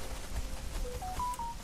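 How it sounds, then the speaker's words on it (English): A phone gives a short notification chime, a few rising electronic tones in quick succession, faint over a quiet background. "Sorry, that was my phone."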